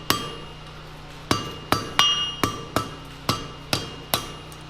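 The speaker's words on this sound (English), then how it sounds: "going to hammer it like that a little bit, not a bunch, just enough to get it a little bit of curvature" Hammer blows ring out on hot metal over the horn of a blacksmith's anvil, about nine sharp close metallic strikes at an uneven, unhurried pace, each with a short ringing decay.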